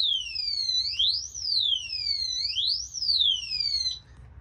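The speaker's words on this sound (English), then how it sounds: "The bike alarm doesn't like that." A motorbike alarm wails nearby, a loud electronic siren sweeping up and down in repeated rising and falling cycles, sounding alone and cutting off near the end.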